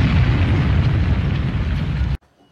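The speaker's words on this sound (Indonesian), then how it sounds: "balon itu sendiri menabrak sesuatu hingga akhirnya meledak" A hot air balloon crashes and explodes in a film scene, a loud, dense, sustained blast of roaring rumble that cuts off abruptly into near silence.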